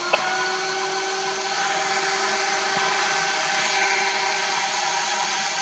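A VPI HW 16.5 record cleaning machine vacuums a dirty, moldy record with a steady, loud motorized whine and airy suction hiss, running continuously and close with no talk.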